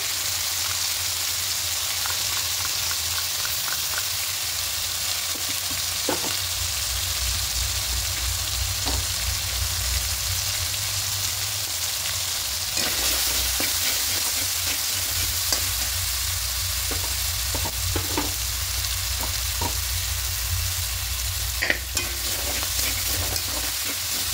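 A ginger and green chilli paste fries with cabbage in a pan for a vegetarian cabbage ghonto, giving a continuous close sizzle with occasional stirring scrapes and no voices.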